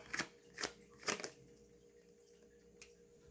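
Tarot cards being shuffled up close in three quick riffling bursts, followed by a single faint card tap, in an otherwise quiet room.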